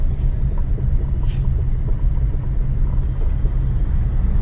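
A car is driven slowly during a driving lesson, with a steady low engine and road rumble heard from inside the cabin, continuous and fairly loud with faint brief noises over it.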